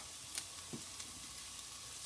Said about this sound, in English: So we've got a bit of a sizzle going here now, as you can hear it